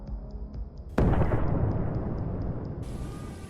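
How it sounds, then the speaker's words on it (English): A landmine detonates under an armored personnel carrier, a sudden loud blast followed by a long rolling rumble that slowly decays, with a faint high periodic beeping tone in the background. "the second APC runs over a mine and is destroyed."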